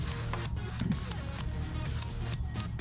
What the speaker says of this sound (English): File them like you're filing acrylic.